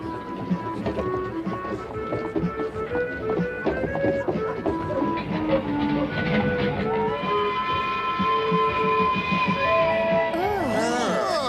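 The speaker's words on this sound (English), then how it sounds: "The train is traveling up above us." An elevated train rumbles overhead on a New York avenue, a loud continuous clatter of wheels and cars with squealing metallic tones as it passes, busy street noise beneath.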